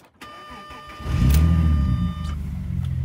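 A Porsche Cayenne set up for off-road use cranks and fires, settling into a loud, close, steady idle rumble after a brief starter whir, with no talking.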